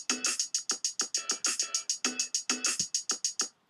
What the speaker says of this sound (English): And the next is a kick.